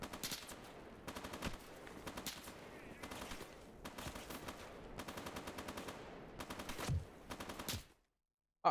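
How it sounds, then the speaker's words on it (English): Enemy gunfire from the shooter GAMMA crackles in rapid automatic bursts, several volleys in succession over about seven seconds before cutting off into silence. "he's shooting me through bushes"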